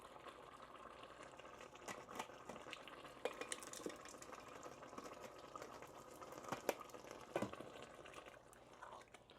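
A spoon stirring Prego spaghetti sauce in a pot, soft low scraping and sloshing with a few sharper knocks against the pot, fairly faint and close.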